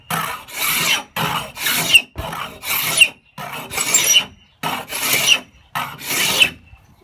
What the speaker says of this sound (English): It just scrapes it right off.